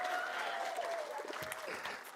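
A conference crowd applauding loudly and steadily, with a sliding whistle above the clapping and faint voices mixed in.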